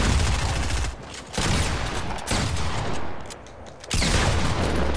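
Gunfire in Fortnite Battle Royale, dense bursts of rapid shots and blasts in loud clusters with brief lulls between them, no talking.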